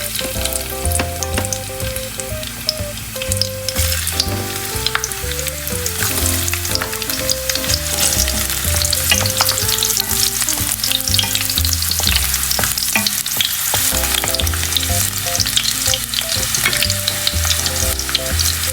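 Garlic fries in a hot pan for a Filipino sweet and sour tilapia escabeche, a loud, continuous close sizzle and crackle with stirring scrapes that runs steadily throughout, no voices.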